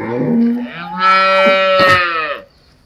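An HF Jersey cross cow or calf moos once, loud and close, a long throaty low that swells in the middle, trails off and ends in quiet.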